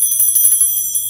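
Bright, high bells ring in a rapid, shimmering ringing, fairly loud and alone without any talk.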